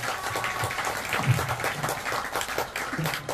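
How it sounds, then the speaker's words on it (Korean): Audience clapping at an outdoor garden concert in Korea, with a moderate crowd applauding in a brief, even burst and faint voices mixed underneath. "다시 한번 박수 한번 보내주십시오"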